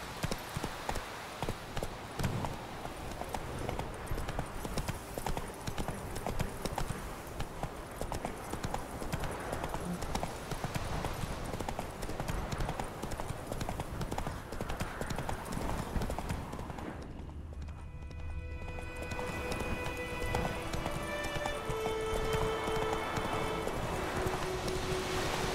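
Roach, Geralt's horse in The Witcher 3: Blood and Wine, gallops with fast rhythmic hoofbeats, close and steady, then slows to a halt amid game ambience and music.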